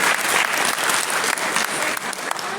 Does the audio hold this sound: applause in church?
yes